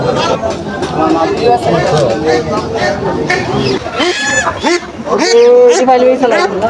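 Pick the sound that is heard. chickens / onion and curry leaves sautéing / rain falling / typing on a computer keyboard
chickens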